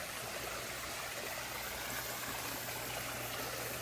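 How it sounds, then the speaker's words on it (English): Steady, broadband rush of a garden pond waterfall running down sandstone, a continuous splashing trickle with a faint low hum beneath, even in level throughout. "an active waterfall feature right down the sandstone"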